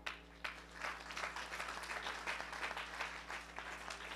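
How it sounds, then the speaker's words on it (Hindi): A church congregation at a Sunday couples' service claps in a sustained round of applause, steady dense patter with a few sharper bursts, moderately loud, with a low steady hum beneath. "इस बच्ची के लिए तालियां बजाएं"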